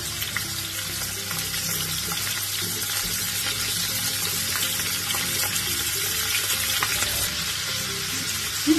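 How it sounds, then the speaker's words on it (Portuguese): Shrimp sautéing in a frying pan with chopped garlic and a bay leaf, giving a steady, close sizzle and crackle throughout with faint scraping, no voices. "eu vou saltear aqui os camarões e temperá-los"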